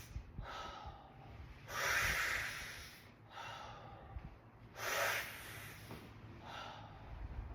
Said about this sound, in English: And breathe 3 mouth breaths.